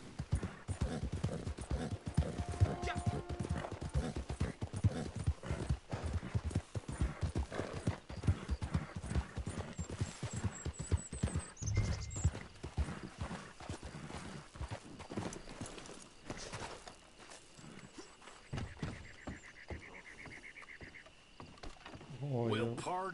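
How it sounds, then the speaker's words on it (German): Horse hooves clip-clop steadily in Red Dead Online, a dense near rhythm of hoofbeats running throughout with occasional whinnies, brief clanking and a faint voice underneath. "Ich glaube, mein Pferd ist kaputt."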